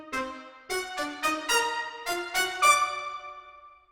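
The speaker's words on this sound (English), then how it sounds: "Now, the other way to do it is to try having the trumpets up and everything else back down." Orchestral chords with trumpets voiced high above lower instruments, played as a series of short accented hits that end in a longer sustained chord ringing out, bright and full with no voices.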